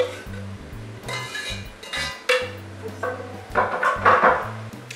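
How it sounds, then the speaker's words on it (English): Garlic tossed into a pan of browned beef for an heirloom Bolognese, followed by close metal clinks and scrapes of a utensil against the pan, with a low steady hum underneath. "So we're going to grab our garlic. Just toss it right in there."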